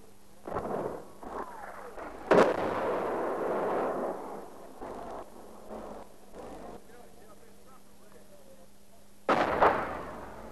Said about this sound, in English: the Argentinians started bringing down artillery fire.